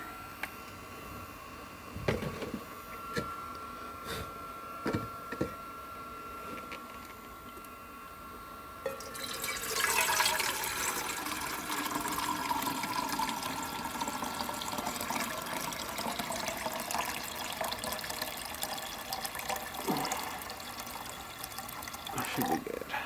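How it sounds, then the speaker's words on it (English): Water is poured into the pot of a Biolite CampStove 2 outdoors. After a quiet stretch, a steady, continuous splashing stream starts at about nine seconds and runs to the end. "we're going to add some water here"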